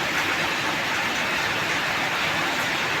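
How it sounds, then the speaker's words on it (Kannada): Heavy rain pours down beside a sugarcane field, a dense, unbroken hiss of falling water that holds loud and steady from start to finish with no voices. "ಜೋರು ಮಳೆ ಬಂತು ನೋಡಿ ಫ್ರೆಂಡ್ಸ್ ಸಿಕ್ಕಾಪಟ್ಟೆ ಮಳೆ ಬಂದ್ಬಿಡ್ತು"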